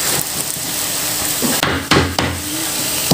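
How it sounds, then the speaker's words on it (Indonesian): Beef being chopped finely with a knife on a cutting board for Balinese tum: a few irregular, sharp chopping knocks over a steady background, close and fairly loud, with no talking. "Dicincang sampai halus"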